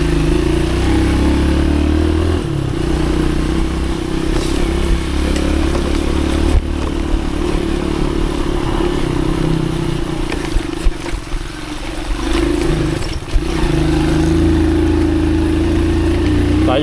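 A motorcycle engine runs steadily in the rain on a ride toward Cundang, a continuous loud drone with low rumble and rain hiss throughout, no talk.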